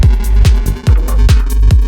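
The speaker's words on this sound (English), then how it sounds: "Listen to the snare." A punchy snare hits on a steady beat over a booming kick and rolling bassline in a psytrance track section, the snare sounding pokey and bright, loud and alone.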